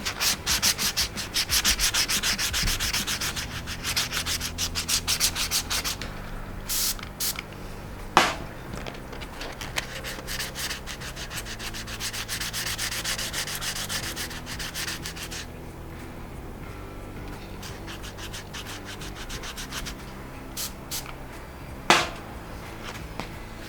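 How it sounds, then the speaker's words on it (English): A buffer's blending wheel grinds and rounds the edge of a KICK-EEZ recoil pad, a steady abrasive rubbing hum with a few sharp clicks, running continuously at close range with no talk. "rounding over this harsh edge with the blending wheel on the buffer"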